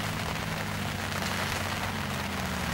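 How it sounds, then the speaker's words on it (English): Steady rain patters densely and evenly on a surface outdoors during a wintery spring fishing session, with no voices. "Now the rain's come down."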